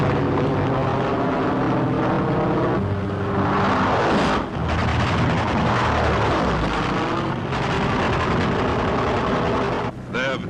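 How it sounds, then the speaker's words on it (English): P-47 Thunderbolt fighter planes fly in a 1943 wartime film, their propeller engines a continuous loud roar that swells as one passes close, with narration heard over the droning. "As an attack by German Messerschmitts and Focke-Wulfs is about to develop, the Thunderbolts peel off to intercept"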